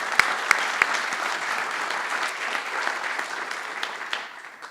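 Sustained applause from an evening lecture audience fills the room, a dense steady wash of clapping with a few sharper claps standing out near the start, no voices over it.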